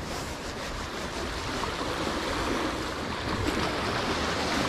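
Rough sea surf breaks at the shore during shore fishing for barracuda. It is a steady, dense roar of waves with wind noise, loud and continuous, with no talk.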